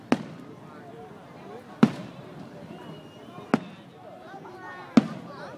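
Willow fireworks burst on New Year's Eve for the 2015 Lunar New Year celebration, four sharp booms roughly every one and a half seconds with crackling tails, heard over steady crowd chatter and background voices.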